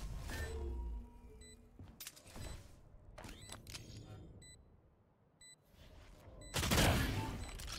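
Sheriff pistol gunfire in the tactical shooter Valorant, several sharp shots spread unevenly across the moment, mixed with game beeps and effects, one heavier burst near the end, with no talk over it.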